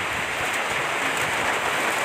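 Rain falls in a steady, even hiss that fills the whole moment without letup, with no voices over it.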